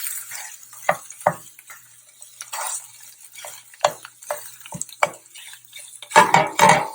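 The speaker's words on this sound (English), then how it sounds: "So now I'm just going to take my spatula and hit this thing up." A spatula scrapes and taps against a pan while breaking up sausage links, giving irregular close clinks and scrapes with quiet gaps between them and a louder burst of strokes near the end.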